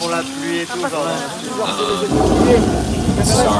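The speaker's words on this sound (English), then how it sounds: "Johnny, that's enough rain. You're gonna flood" Sprinklers on a studio set produce an artificial rainstorm, a dense steady hiss of falling water rising after a voice and music, with a rumble beneath it.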